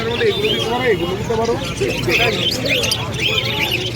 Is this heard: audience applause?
no